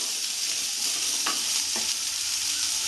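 Chopped onion fries in hot oil with a steady, dense sizzling hiss, and two brief scrapes of a spatula stand out over the constant frying.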